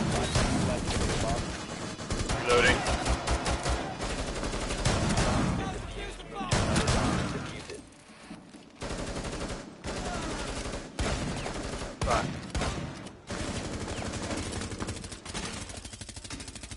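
Rapid bursts of gunfire from the Rainbow Six Siege video game crack loudly in clusters with brief quiet gaps, while a voice talks over parts of the action.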